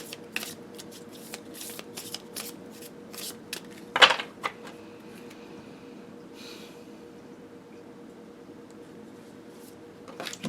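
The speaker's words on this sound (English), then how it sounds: "I'm just going to pull 3 cards." Oracle cards shuffled by hand in a quiet room, a quick run of soft riffling flicks over several seconds with one sharper snap, then near silence before a few more faint flicks at the end.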